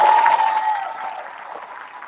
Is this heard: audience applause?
yes